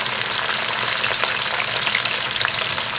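Flame-roasted sliced shallots hit frying golden garlic in a hot pan, giving a loud, steady hiss and crackle of sizzling oil up close, with no talk.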